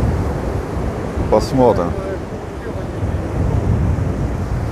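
Sea waves wash onto the beach at Anapa in the morning, a rough, continuous surf roar mixed with wind buffeting the microphone, with a person speaking briefly over it.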